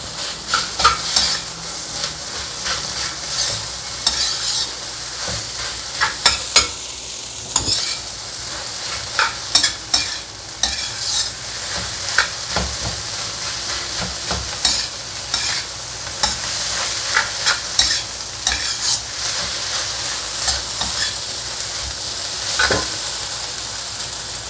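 Chili sambal is stirred in a frying pan, a steady hot sizzle carried throughout with irregular scraping strokes of the utensil against the pan, close and fairly loud with no talking.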